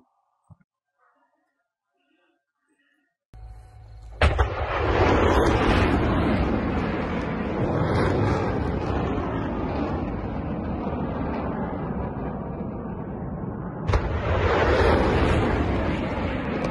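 Missile launch of MGM-140 ATACMS rockets seen in military footage: after near silence, a sudden loud roaring rush of rocket exhaust that sustains for about ten seconds, then a second sharp onset of roar follows.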